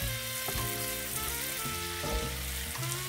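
Mushrooms and vegetables sizzle steadily in a pan as they are stirred, a dense continuous frying hiss with a few soft spatula knocks and scrapes, close and fairly loud.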